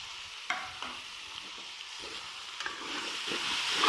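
A spoon stirs spiced masala frying in a pan for palak gosht, with a steady sizzle under a few scraping strokes and clinks, close and moderately quiet, no talk.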